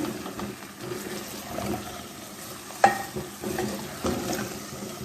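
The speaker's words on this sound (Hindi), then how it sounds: "मिक्स करेंगे ताकि मसाला तमाम आलूओं में मिक्स हो जाए।" Spiced potatoes are stirred in a frying pan, giving soft scraping and low sizzling across the clip, with one sharp knock of the spoon against the pan near the middle. No one speaks.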